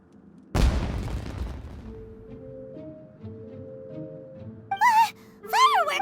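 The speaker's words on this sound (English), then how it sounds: "Was that an explosion? It sounded like fireworks." A single sharp boom bursts in a Genshin Impact scene, its rumble decaying over a second or two, followed by soft tonal game music and then two short voiced exclamations.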